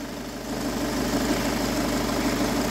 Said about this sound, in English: I just don't particularly like the idea of revving an engine to